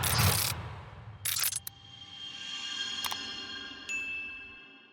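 A bright notification-bell ding rings out over quiet background sound, following a couple of short clicky bursts and a louder rustle at the start, with a second fainter chime near the end.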